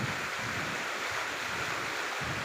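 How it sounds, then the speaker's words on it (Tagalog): A strong river rushes through the mountains of Kalinga in the Philippines, producing a steady, dense roar of churning water with no pauses and no voices. "lakas ng tubig."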